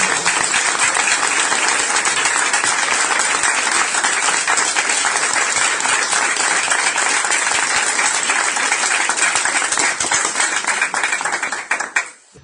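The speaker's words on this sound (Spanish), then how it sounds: "Así que un aplauso para Horacio." A crowd gives Horacio loud, sustained applause at a festival event, with dense close clapping that runs strong for about twelve seconds before quickly fading out.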